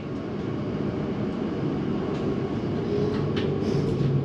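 Steady low rumble of a London Elizabeth Line train departing Stratford toward Gidea Park, with faint rhythmic clicks and squeals over the continuous drone.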